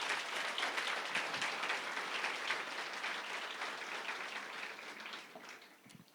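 Church congregation applauding for Jesus, a dense wash of clapping that holds steady, then thins and fades near the end before a sharp sound at the close.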